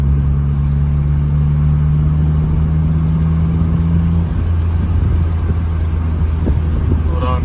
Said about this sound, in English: Now you can actually hear the turbo.